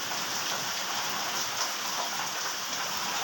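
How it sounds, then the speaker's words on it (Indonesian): Steady, dense rain pours down close by as a continuous loud hiss of drops hitting surfaces, with no pauses and no voices. "Kan ini hujan."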